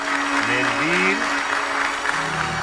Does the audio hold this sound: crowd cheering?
yes